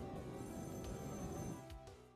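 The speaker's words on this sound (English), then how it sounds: "it's even more chilling when the phone starts to ring once again" A telephone rings in a scene from the 1974 horror film Black Christmas, a steady electronic bell tone that is continuous and fairly loud before tapering off near the end.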